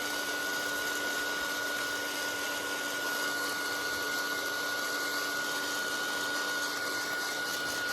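Heat tool blowing steadily to dry paint on background paper, a continuous loud whirring drone with a constant whine throughout, no pauses.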